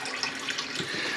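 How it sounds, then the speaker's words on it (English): Water running through a held-open toilet flush valve in a bathroom remodel makes a steady, splashy hiss with small gurgles, moderately loud and continuous, without talk. "So I'm just holding the valve open and running the water through."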